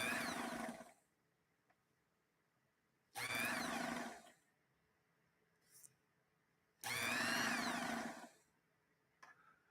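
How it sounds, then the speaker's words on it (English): An old sewing machine with a worn motor, run in three separate bursts of about one to one and a half seconds each. Each burst is a loud, close whirring roar, with near-silence between runs. "I would not want to sew with this machine with this motor"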